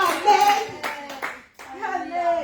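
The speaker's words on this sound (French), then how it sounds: "Oh, Jésus, acclame-le ce matin." A church congregation claps in acclamation of Jesus during a Sunday worship service, steady hand claps mixed under a man's loud, sung exclamations.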